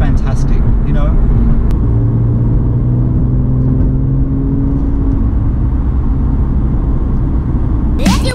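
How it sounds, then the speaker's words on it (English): A car cruising along a road, with steady engine rumble and tyre noise throughout, close and fairly loud, with faint voice-like sounds over it. "jumping in the car, going for a drive"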